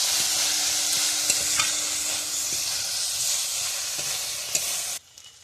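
A pan sizzles and hisses steadily while a utensil scrapes and stirs frying potato and eggplant, with a few sharper clinks, before the sound cuts off near the end.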